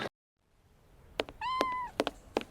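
A cat in a Sherlock Holmes video game lets out a clear, drawn-out meow after a brief silence, followed by a few short sharp sounds.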